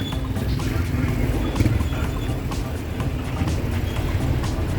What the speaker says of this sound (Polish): To jest milion samochodów, to jest po prostu niewyobrażalne. Same jeepy.